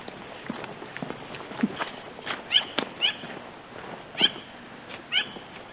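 A cat outdoors among crows, giving several short meows at irregular intervals, fairly close, along with soft footsteps and faint rustling in the background.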